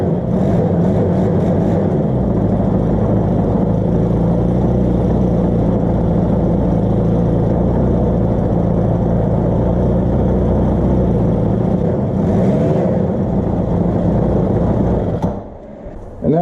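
Ryobi S430 lawn trimmer engine idling after its carburetor replacement, a loud, steady buzzing drone that runs nearly unbroken throughout, with a slight waver and a drop near the end.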